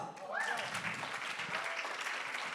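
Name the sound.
audience round of applause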